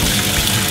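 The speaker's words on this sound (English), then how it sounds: "fill the tub halfway with water" Water gushes steadily into the tub of an Ezywash portable washing machine by Basecamp, a loud, even rushing stream with no pauses.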